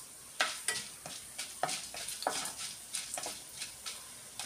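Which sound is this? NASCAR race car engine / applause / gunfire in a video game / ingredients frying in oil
ingredients frying in oil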